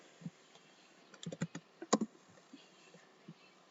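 Commands are typed on a computer keyboard: quiet, irregular key clicks, bunched into a quick burst in the middle, with pauses between keystrokes and no voices.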